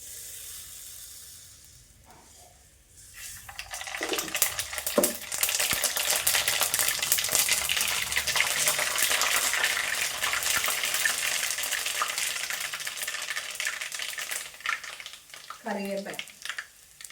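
Mustard seeds go into hot oil for a mutton pickle. A loud, dense sizzle and crackle bursts up and holds for several seconds after a quiet start, then fades with a few clinks near the end.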